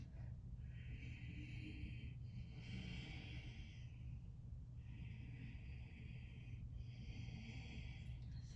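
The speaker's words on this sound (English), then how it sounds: "Breathing here for 5." Slow, audible breaths come during a held yoga pose in a chaturanga practice. Several long hissing inhales and exhales alternate in a steady rhythm over a low background rumble, close and fairly quiet.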